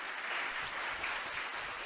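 An audience claps warmly to welcome a speaker at a retail customer-satisfaction award event, a steady even patter of many hands throughout without a pause.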